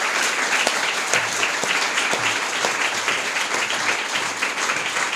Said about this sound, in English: A big round of applause, actually.